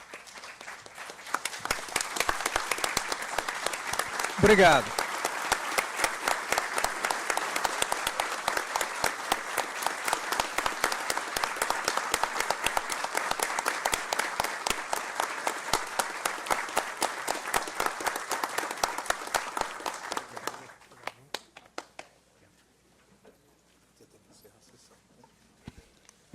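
Sustained applause from a standing audience at a Brazilian law conference session honoring a minister, dense steady clapping for about twenty seconds that thins to scattered claps, with a brief spoken word near the start.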